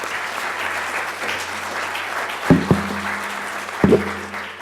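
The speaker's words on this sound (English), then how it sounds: "A round of applause for all the stakeholders this morning." Steady applause for stakeholders at a morning session of presentations, a dense even clatter with a few louder thumps near the mic toward the end.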